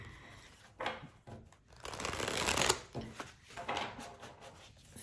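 A deck of tarot cards being shuffled close up, repeated riffling and sliding bursts with brief pauses between them, no talking.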